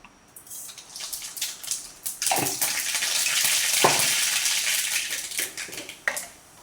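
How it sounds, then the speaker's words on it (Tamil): Mustard seeds hit hot oil in a pan and crackle and splutter in a dense, hissing sizzle that swells to a steady roar with sharp pops, fairly close and with no talk. "எண்ணெய் நல்ல வடிவாக ஹீட் ஆகிட்டு அப்போ நான் கொஞ்சம் கடுகு போட போகிறேன்"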